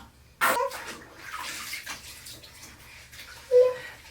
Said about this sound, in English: He's literally just like playing with the knob to turn the shower on.